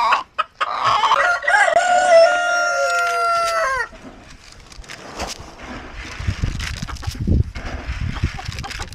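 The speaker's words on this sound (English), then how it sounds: "Oh, look at these birds up here." Chickens cluck and a rooster crows loudly up close at a backyard coop around feeding time, the crow's long harmonic call filling the first few seconds before quieter rustling and scattered clucks follow.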